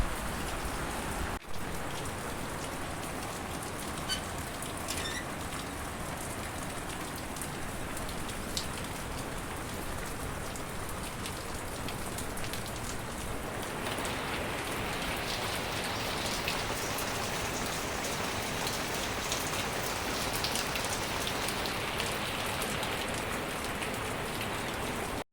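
Steady rain falls in a Konkan village, a dense continuous patter on surfaces that thickens partway through, with scattered nearby drips and no voices.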